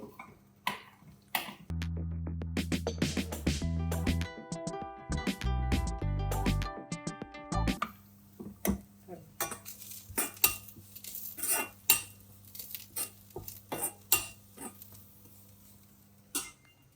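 A spoon clinks and scrapes against a pan while stirring a green chilli and beans fry, bright metallic taps and scrapes with a brief rattling passage, close and clear, with no talking.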